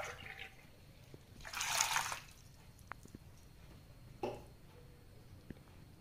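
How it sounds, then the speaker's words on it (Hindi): Water is poured into a large pot holding peeled fresh corn until the cobs are covered, giving a short rushing splash followed by quieter drips and a brief second pour in a home kitchen. "अब एक बड़ा सा बर्तन लेके उसमें कॉर्न रख के, कॉर्न पूरा कवर हो जाए उतना पानी ले लेंगे"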